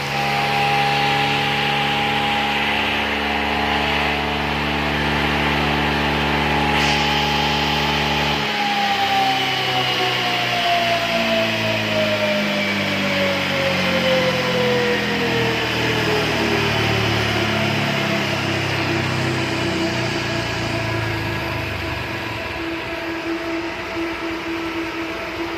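A ported and polished Honda Vario 125 scooter engine runs loud and steady, its whine holding pitch and then sliding lower as revs fall, a continuous close mechanical drone with no talk.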